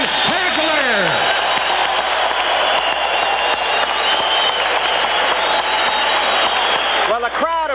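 A boxing arena crowd applauds middleweight champion Marvin Hagler after his eleventh-round technical knockout of Mustafa Hamsho, loud continuous clapping and cheering throughout, with a commentator talking over it.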